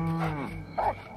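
A cow moos in the horror video game The Cows are Watching, a single close, loud, low bellow that fades out, followed by a brief second call.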